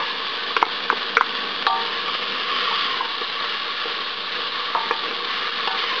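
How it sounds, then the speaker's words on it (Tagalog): Onions sauté in a pan with browned garlic for ox tripe congee, giving a steady, bright, close sizzle throughout, with occasional light clicks and taps from the utensil against the pan. "At igigisa naman natin to hanggang mag-wilt yung onions natin"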